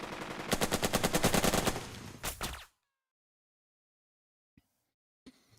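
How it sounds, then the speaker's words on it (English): Machine gun fire in the Burden of Command strategy game, a loud, rapid, evenly spaced burst of shots lasting about two seconds, then abrupt silence broken by a couple of faint clicks. "Okay, let's open with the machine gun."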